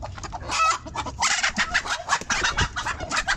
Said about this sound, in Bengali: এই যে একটা মুরগি ওটা ডিম দিব